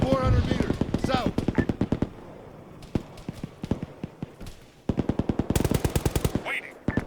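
Machine gun fire in the Arma 3 military game, loud rapid bursts of automatic shots in two stretches with a quieter gap of distant fire between, a voice speaking briefly over the opening burst.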